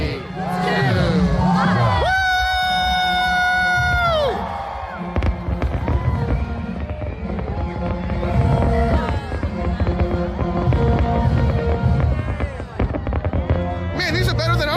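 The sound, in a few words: fireworks and a cheering crowd at a midnight New Year countdown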